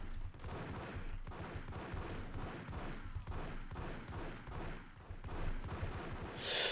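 Dual Beretta pistols firing in the Max Payne shooter game, a steady run of rapid, evenly spaced shots that is fairly faint and continuous, with no talk over it.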